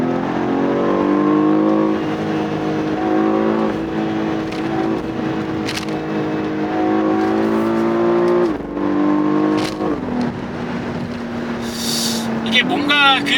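A 510-horsepower BMW X4 M accelerates hard, the engine note climbing through the revs in rising sweeps, with brief gear-change dips and a sustained strained howl near and loud in the cabin.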